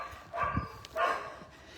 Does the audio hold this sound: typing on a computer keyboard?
no